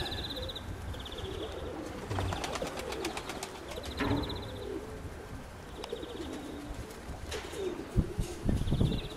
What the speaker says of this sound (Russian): Это первый голубенок